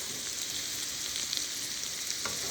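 Seasoned food fries in a hot pan with a steady, bright sizzle and crackle that stays even and close throughout, with small pops near the end and no voices.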